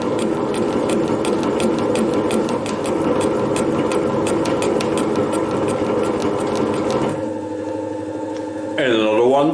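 Metal shaper cutting a gear at 160 strokes a minute, with a fast, steady clatter of strokes running continuously before the machine winds down and a different mechanical whir takes over at the end.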